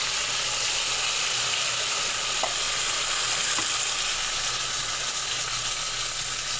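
Onion, tomato and spices frying in a pan for a spicy fish curry, a steady dense sizzle with occasional stirring scrapes, close and continuous, with no voices.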